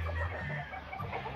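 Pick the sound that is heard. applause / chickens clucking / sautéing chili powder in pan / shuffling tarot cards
chickens clucking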